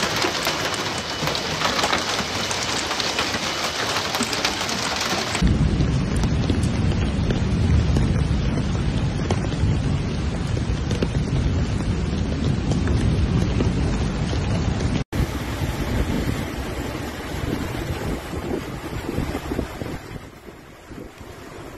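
Heavy rain and wind during Storm Lambert in Germany, a dense, steady roar of downpour with gusty buffeting, loud and continuous throughout with no voices.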